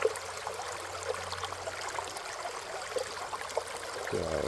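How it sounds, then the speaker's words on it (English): Water runs steadily through a prototype RPE sluice box during a dredge concentrate cleanup, a soft continuous trickle and hiss with no talk. "I could have a little more water running through there"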